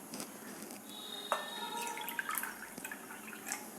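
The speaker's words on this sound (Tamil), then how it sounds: "இன்னும் ஒரு 3 கப் தண்ணி ஊற்றிடுறேன்." Water trickles and drips into a pot of black kavuni rice being cooked for sweet pongal: a faint, close, splashing pour with small bright droplet sounds and no talking.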